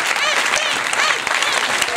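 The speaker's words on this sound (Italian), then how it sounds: "Un applauso a Esther." An audience applauds Esther Esposito Benson, wife of Richard Benson, at an Italian event, with dense clapping throughout and a voice speaking over it.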